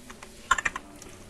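A short burst of computer-keyboard typing into a YouTube search box: a quick run of about five crisp, close keystrokes that rises briefly above a quiet room background, with no one talking.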